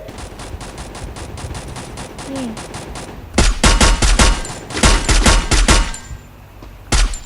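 Gunfire in a shooting video game, with rapid, loud bursts of automatic fire in quick succession, some stretches dense and continuous, others clipped into short volleys.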